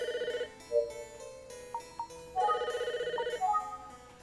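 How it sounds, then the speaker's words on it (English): A synthetic electronic phone ringtone in the video game Famicom Detective Club: The Missing Heir trills in repeated melodic bursts, clear and close, with brief pauses between rings. "The phone is ringing."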